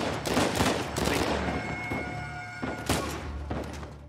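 Gunfire in Uncharted 4: A Thief's End, during a prison bust; several heavy thumping shots ring out in irregular bursts over a humming, droning game background.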